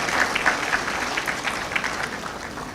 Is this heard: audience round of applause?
yes